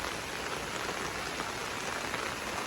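Heavy rain pours steadily onto open land, a dense, even hiss of drops with no breaks and no voices.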